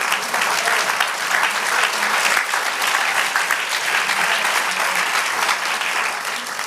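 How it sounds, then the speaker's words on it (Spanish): A church congregation claps and applauds together, dense and steady, for several seconds without pause. "Dele aplauso al Señor."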